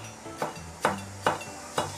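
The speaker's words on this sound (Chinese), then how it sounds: "泡发好的木耳卷起来切成丝。" A knife chops rolled-up soaked wood ear mushroom into thin strips on a cutting board, giving four sharp, evenly spaced knocks in a steady rhythm with no voices.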